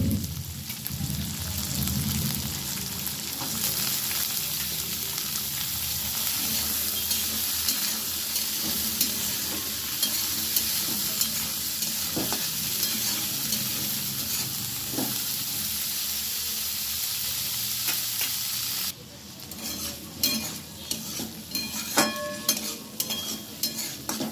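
Peas and flat beans frying in a pan, a loud continuous crackling sizzle like heavy rain that drops briefly, then returns with sharper pops and spatula scrapes toward the end, close and busy.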